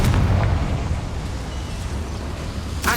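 A Confringo blasting spell bursts in Hogwarts Legacy: a loud booming explosion at the start fades into a rumbling tail, and a second sharp blast hits near the end.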